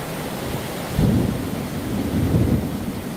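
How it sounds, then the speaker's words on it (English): Heavy rain pours steadily while low thunder rumbles swell twice, a dense broadband wash of rainfall with deep rolling booms rising over it. "the rain's slowing down. Still pouring though."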